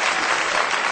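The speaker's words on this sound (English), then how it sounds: "Everybody give her a round of applause." An audience applauds Mandy after a magic routine, a brief, loud, close burst of clapping that fills the whole moment.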